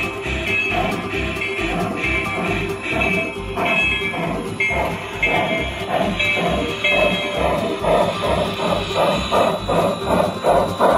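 A garden railroad model locomotive runs outdoors during switching operations, its rhythmic chuffing and clicking steady throughout with faint hiss, close by and moderately loud.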